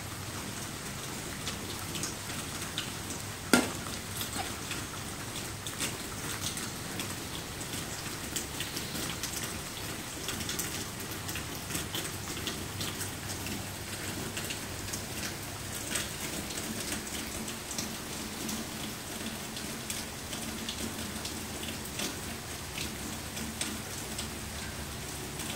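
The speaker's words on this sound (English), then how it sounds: "Is the rain getting you?" Steady rain falls outdoors, a continuous hiss of drops pattering on surfaces at an even level throughout, with one brief sharp tap near the start and no voices.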